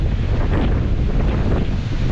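Strong wind gusts of about 55 mph buffet the microphone on a Colorado mountaintop, a loud, continuous low roar with no voices.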